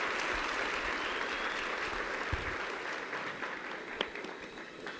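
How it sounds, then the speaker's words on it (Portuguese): Audience applause for a man named Rubens as he is called up to the microphone, a steady wash of clapping from a crowd filling the whole stretch, gradually easing toward the end. "Uma salva de palmas para o Rubens"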